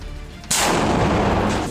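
Explosion destroying a building in Gaza, a sudden loud blast cutting in after a low rumble and spreading into a long, roaring wash of debris and noise.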